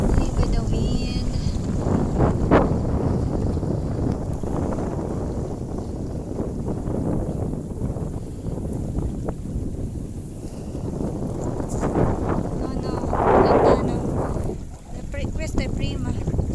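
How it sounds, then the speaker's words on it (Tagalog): Strong wind roars steadily across the microphone while sailing a boat off a beach, a constant heavy gusting rush with brief stronger bursts, as people talk over it. "Ang lakas ng hangin."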